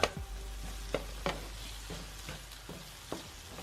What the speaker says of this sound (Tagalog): just keep mixing until our onion and tomato cook